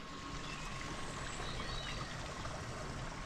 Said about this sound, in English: Hear the water running.